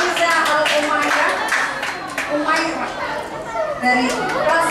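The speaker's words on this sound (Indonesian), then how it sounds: "kita beri tepuk tangan yang meriah untuk Aisyah Al-Umairah" Audience clapping at a school fashion show of traditional Indonesian costumes made from recycled waste, steady applause mixed with children's chatter and shouts throughout, with a loudspeaker voice over it.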